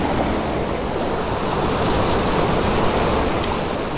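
Steady rushing water at a river crossing in Wadi Shab, Oman, a loud continuous wash of flowing current that holds even from start to finish with no voices.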